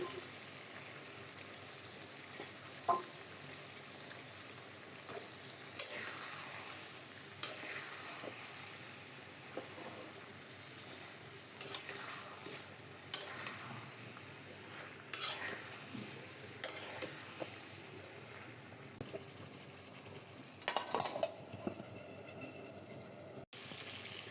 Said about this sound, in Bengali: এটা দিয়ে আবার অনেকক্ষণ কষাবো। দু একটা কাঁচামরিচ ছিল, দিয়ে দিলাম।